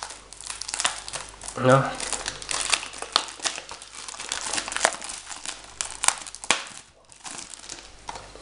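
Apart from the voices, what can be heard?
removing plastic film wrap from anime DVD case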